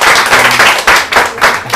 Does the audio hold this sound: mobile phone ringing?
no